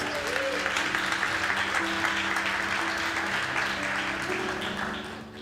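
A church congregation applauds the SEI team in a steady, even round of clapping, with sustained music tones running underneath the whole time.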